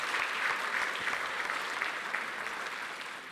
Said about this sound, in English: Can we give our commissioners a big round of applause?